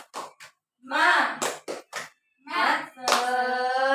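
A primary school class performs the tepuk semangat rhythmic clap with their teacher, short bursts of claps alternating with children chanting and speaking in unison, close and fairly loud.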